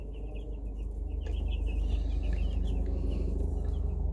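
Week-old Cornish Cross meat chicks from a hatchery cluck and peep in a rapid, continuous series of short chirps, close by over a steady low hum, with no talking.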